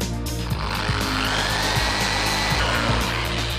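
A power drill bores holes in a chopper motorcycle kit, a continuous whirring whine over a steady hum with faint rhythmic knocks, loud and close, with no voices.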